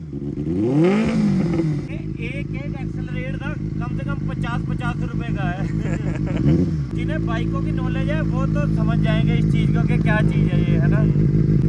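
A Benelli 600i superbike's engine idles close by, then revs up in rising, throaty sweeps from its exhaust in the mountains of Uttarakhand, with voices heard faintly under the engine noise.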